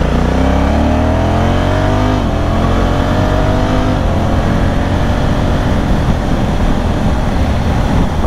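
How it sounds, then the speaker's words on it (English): Tyre whine from Metzeler Karoo 4 tyres on a motorcycle at higher road speed rides over a loud, close engine and wind roar, with a rising tonal hum that climbs steadily before dissolving into broadband rush. "Yeah, higher speeds, you can definitely hear a tire whine on the road"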